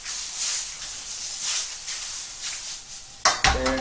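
Shrimp pad thai being stir-fried in a hot pan, with a steady sizzling hiss and soft scraping as the food is tossed, ending in a few sharp, loud metallic clanks of the pan near the close.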